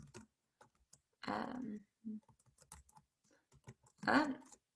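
Typing on a computer keyboard, scattered soft key clicks close by, interrupted by short bursts of speech.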